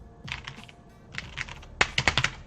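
Computer keyboard typing up close, clicking keys in quick irregular bursts with short pauses between them.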